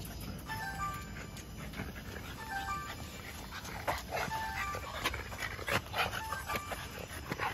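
A dog pants steadily in quick breaths, with short high whimpers and yips breaking through now and then, close by.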